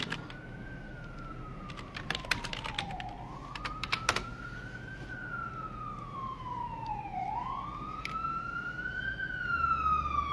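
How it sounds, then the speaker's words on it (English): Police car siren wailing as it drives past outdoors, rising and falling in slow sweeps at a distance while computer keys clatter nearby. "the freaking police are driving by, so you know that gets difficult"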